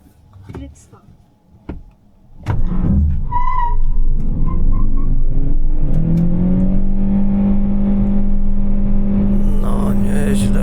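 A Chery Tiggo 4 Hybrid 1.5 HEV in Sport mode, heard from inside the car. After a few spoken words, the engine rises into a loud, sustained revving drone that climbs in pitch and holds steady.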